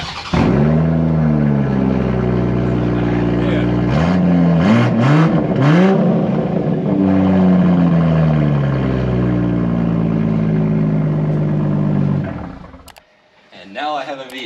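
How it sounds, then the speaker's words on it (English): BMW M340 with the exhaust removed starts with a sharp burst and revs repeatedly, loud raw engine sweeps rising and falling close by, with people talking over it before it cuts off. "You got to start it with no exhaust on."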